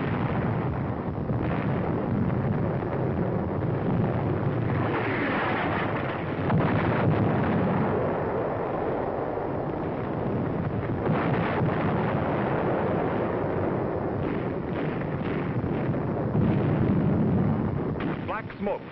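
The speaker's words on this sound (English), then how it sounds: "A direct hit on an enemy 88mm gun position." An artillery shell bursting on an enemy 88mm gun position in a North African wartime battle, a dull sustained roar of blast and rumble over wind buffeting the microphone, with a faint voice narrating over it, heavily muffled old recording.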